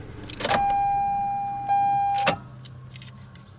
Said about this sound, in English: Hear the vent moving.